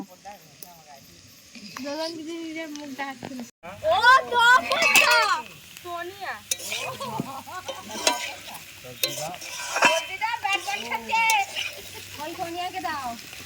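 Potatoes fry in a pan at a nighttime village picnic, a soft sizzle with stirring scrapes running underneath several people talking and laughing nearby.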